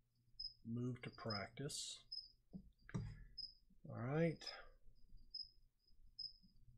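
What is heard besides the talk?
crickets chirping in a lizard cage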